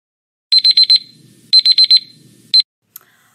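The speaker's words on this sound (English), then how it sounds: "I'm going to put my timer on" A classroom timer alarm beeps loudly in two quick bursts of five rapid electronic tones, then one single beep, with a brief faint click afterward and no talking.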